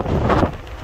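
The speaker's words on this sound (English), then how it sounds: "it's windy today" Steady wind buffeting the microphone outdoors, a broad low rumble with gusty swells and no voices.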